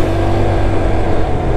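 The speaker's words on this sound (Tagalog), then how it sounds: "Overtake lang tayo ng isa." A car overtakes another vehicle on a road near Kalumala Heights in Bauan, Batangas, giving a steady, close engine and road rumble with no clear change in pitch.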